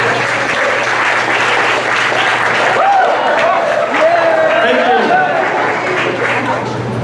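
Audience applause at a San Francisco hackathon for silly, useless projects, a steady dense patter of many hands filling the room, with crowd chatter and a voice mixed in throughout.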